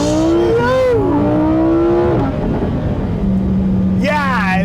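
A Lamborghini Huracan Sterrato accelerating hard from a standstill in sport mode: a loud engine note climbing in pitch through gear changes, dipping between shifts, then rising sharply again near the end, with a voice heard over it.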